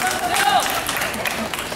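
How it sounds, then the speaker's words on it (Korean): Audience applause at a musical performance: a dense, steady wash of clapping from a crowd, with faint voices mixed in. "저분 박수 한번 주세요."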